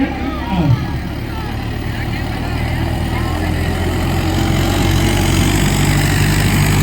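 A New Holland tractor engine runs in a loud, steady low drone throughout, close by, with a brief voice near the start.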